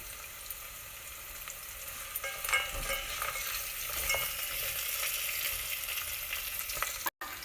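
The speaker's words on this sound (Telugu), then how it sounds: "ఇందులో ఒక పావు కప్ అంతా కాజు వేసుకొని ఫ్రై చేసుకోండి" Quarter cup of cashews frying in hot oil with onions in a pan for bagara rice, a steady close sizzle with light stirring scrapes throughout, no talking.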